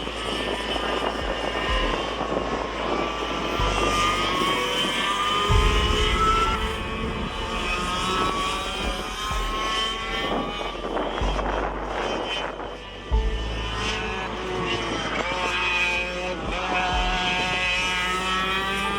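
Go-karts lapping the Purdue Grand Prix track, a steady loud engine drone rising and falling as karts pass, with louder surges near the middle and end and no talk.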